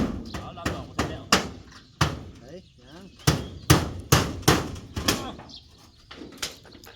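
Hammering nails while building a small rice-field hut outdoors, heard as a steady series of sharp, ringing hammer blows up close, with a brief pause partway through.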